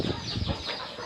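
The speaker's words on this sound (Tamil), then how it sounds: "நான் இப்போ வாங்கிட்டு வந்த அந்த கிராப் கோழி பாருங்கள்" A crop chicken, a native-breed hen, clucks in a short, close burst of throaty, uneven calls over a rough, noisy background.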